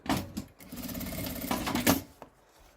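A sewing machine stitches the strap end of a children's fabric bag in short bursts, close and fairly loud, with brief pauses between runs of stitching.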